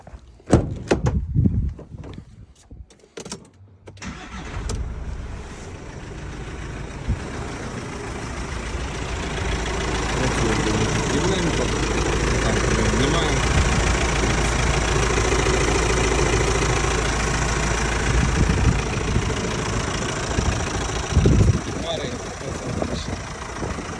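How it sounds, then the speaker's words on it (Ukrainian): A door thumps and clatters, then the 120 kW diesel engine of a 2013 Volkswagen Crafter van turns over and settles into a steady, rumbling idle close by, with a voice speaking over it. "Зараз заведу, покажу, як працює."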